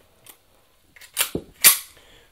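A Beretta pistol is cleared by hand, producing a few sharp, close metallic clacks and clicks from the slide and action, separated by short quiet pauses.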